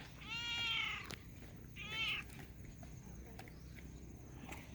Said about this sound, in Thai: แมวเมียว